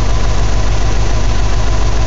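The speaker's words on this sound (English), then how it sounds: "See how the engine wanted to die a little bit when the headlights came on?" A Subaru WRX GC8 engine idles roughly and unevenly, a steady loud low rumble with a pulsing, misfiring beat that sags as if about to stall when the headlights are switched on.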